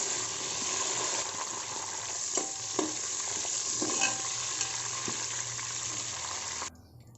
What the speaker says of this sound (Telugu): వీటన్నిటిని కలిపి ఆయిల్లో వేసేసుకుందాము. ఆయిల్లో వేసి వేయించుకోవాలి.